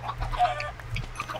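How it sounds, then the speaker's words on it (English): Chickens cluck repeatedly in the video game Minecraft, several short calls overlapping close by at a steady moderate level with no talk. "Look at all them chickens!"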